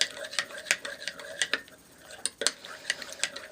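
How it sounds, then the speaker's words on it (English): A spoon clinks against the inside of a cup as boiling water and cinnamon are stirred, a quiet, uneven run of light metallic taps with brief pauses. "stir it up really well"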